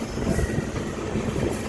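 An Amrit Bharat Express on its inaugural run slows near Gudur, producing a continuous rumble of wheels on rail with high metallic squealing, heard from on board at a moderate level.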